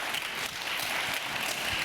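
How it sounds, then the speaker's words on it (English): An audience at a maritime heritage conference plenary claps to welcome panelists, a brief, even wash of many hands applauding at moderate volume with no voices over it. "Let's give them a round of applause first."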